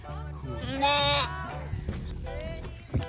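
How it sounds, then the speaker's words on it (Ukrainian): Sheep being loaded into a car give several close, loud bleats, one long call standing out, amid people talking and moving around them. "Зараз грузимо овець в салон чи в машину і їдемо."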